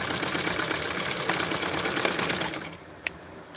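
A sewing machine runs steadily while stitching fabric on a small doll-clothing project, a continuous close mechanical whir that stops near the end, followed by a single sharp click.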